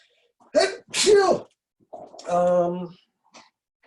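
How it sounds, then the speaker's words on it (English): A single loud sneeze, with a sharp intake and burst, followed by brief speech and quiet. "I'm going to sneeze."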